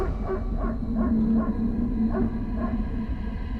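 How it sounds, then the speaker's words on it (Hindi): Several faint dog barks sound far off, repeating in a loose rhythm over a low steady background hum. "दूर कहीं कुत्तों की भौंकने की आवाज"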